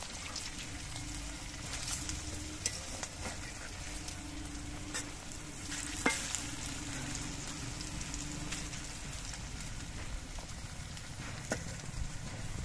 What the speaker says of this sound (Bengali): পকোড়াগুলো 1 পিঠ ভাজা হয়ে যাওয়ার পর আমি উল্টে দিচ্ছি।